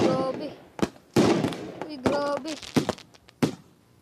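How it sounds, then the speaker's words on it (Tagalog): Video game fireworks pop and burst in a rapid, irregular string of sharp bangs, some with whistling rises, loud and close, while a person talks excitedly between blasts. "Ayan, fireworks."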